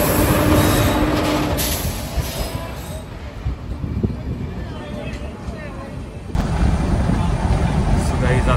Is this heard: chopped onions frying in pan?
no